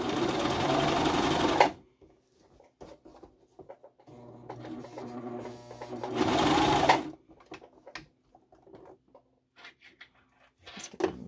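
A sewing machine stitching a seam on a knit two-piece pyjama runs in two loud bursts of rapid whirring stitches, separated by quieter handling, fabric shuffling and small clicks.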